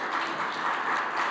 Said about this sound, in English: I hope you're hearing the applause